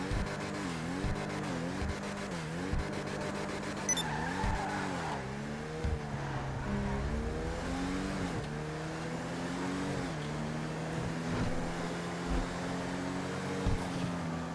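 The Albany Cavalcade XL car in GTA Online revs repeatedly, its engine tone climbing and falling in waves over a low steady rumble. Each rise is followed by a brief tire squeal, and no one talks.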